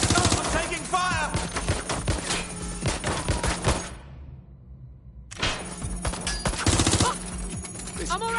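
Rapid automatic gunfire crackles in dense bursts from the Watch Dogs Legion video game, nearly continuous with a roughly one-second lull in the middle before heavy shooting resumes, with voices shouting over it.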